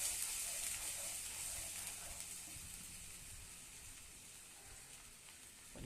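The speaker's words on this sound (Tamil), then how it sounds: "அரைச்சி வச்சுட்டு ஒரு வதக்கிடுவோம்." Ground dry ginger, karpooravalli and tulsi paste frying in a pan, giving a steady, faint sizzle and hiss that slowly eases over several seconds.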